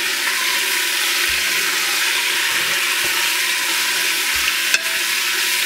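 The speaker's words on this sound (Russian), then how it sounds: "Наша задача, чтобы мясо как бы запечаталось, да, то есть с краев оно стало такое обжаренное" Chunks of meat searing in hot oil in an Afghan kazan, a loud continuous sizzle with a few soft scrapes and knocks of stirring, no voices.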